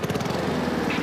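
A petrol lawn mower engine runs steadily at close range, a loud rapid pulsing drone mowing over dried leaves spread on a lawn.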